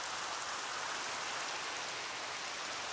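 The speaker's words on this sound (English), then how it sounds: "Why is it still raining?" Rain pours steadily in the video game Minecraft, a dense, even hiss of falling water that fills the whole moment, with no voices.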